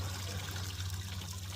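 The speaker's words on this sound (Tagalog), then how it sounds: "Bali walang katapos ang daloy ng tubig dito kahit summer." Spring water runs steadily from a village water source, a soft continuous trickle and pour with no talking.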